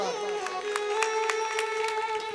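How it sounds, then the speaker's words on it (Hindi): An audience claps rhythmically along with a sustained devotional bhajan, with sharp regular claps over droning melodic accompaniment throughout. "अरे ताली बजा रहे हो तो खुल के बजाओ ना एक बार"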